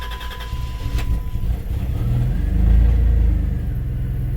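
A 1991 Dodge Grand Caravan engine runs steadily after starting, a loud low rumble that swells slightly toward the middle and keeps idling alone, with no voices.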